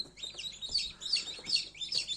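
Spanish-breed chicks hatching in an incubator peep repeatedly, high thin chirps coming in quick rhythmic clusters, close and fairly clear over a faint background hum.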